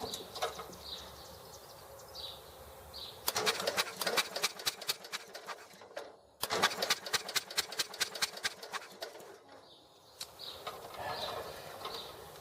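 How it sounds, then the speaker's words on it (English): A small engine fires in two runs of rapid, rhythmic popping, each stopping after a few seconds, close and fairly loud, while birds coo faintly in the background. "I'm going to try and see if the engine starts and blows stuff around"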